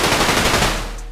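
A gunfire sound effect plays as a loud, dense burst of rapid shots that fills about a second before tailing off.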